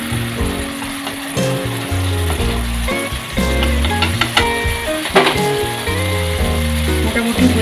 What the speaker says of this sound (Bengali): ভালো করে চালিয়ে চালিয়ে মশলাটা কষে কষে তেল বেরোনো পর্যন্ত ওয়েট করবো।